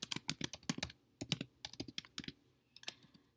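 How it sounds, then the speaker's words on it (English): Quick bursts of clicky keystrokes on a computer keyboard, typed in short runs with brief pauses between them, close and fairly quiet. "now I'm typing a little bit more"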